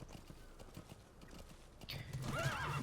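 Horse hooves clip-clop in the video game Metal Gear Solid 5, soft steady steps followed by a louder whinny near the end, with faint background sound.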